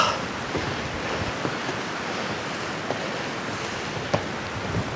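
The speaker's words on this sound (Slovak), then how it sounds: "Dneska sa tak nejako rozfúkalo." Strong gusty wind blowing outdoors on a hilltop near Pustevny, a steady loud roar buffeting the microphone with occasional sharper gusts and no talking.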